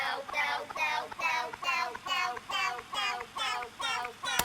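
A pitched-up break beat for a jersey club and trap track, heard dry without processing: a steady loop of about nine sharp, bright, chopped hits in an even, driving rhythm, loud and upfront with no voices.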